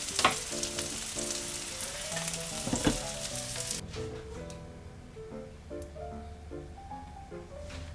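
Food sizzles and crackles in a hot pan while sweet snap peas are stir-fried, loud at first then softer, with scraping and clinking of a utensil throughout.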